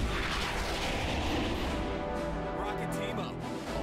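Rockets firing in the Starship Troopers: Terran Command video game, a dense rolling barrage of booms and blasts, loud and continuous, easing slightly toward the end.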